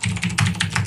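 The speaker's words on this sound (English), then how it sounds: "if you hear clicking, that's my mechanical keyboard" Rapid clicking of a mechanical keyboard being typed on at a wood desk, close and fairly loud, with quick uneven bursts of keystrokes and no talking.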